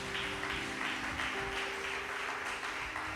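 Congregation clapping in a church, a steady dense wash of applause throughout, with a sustained tone underneath.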